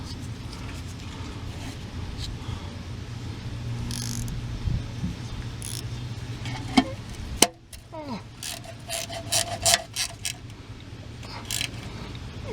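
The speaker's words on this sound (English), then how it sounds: "I'm going to snug these cover bolts back up and I'm done." A ratchet clicks in short bursts as cover bolts are snugged on a Dodge Caravan oil pan, with metallic clinks and handling noises over a low background hum.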